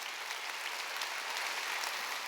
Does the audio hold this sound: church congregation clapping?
yes